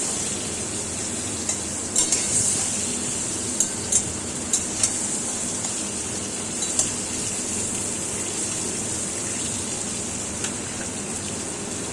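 Native chicken and potato pieces with turmeric sizzle steadily in a hot pan, with a continuous frying hiss and occasional light scrapes and clinks from stirring.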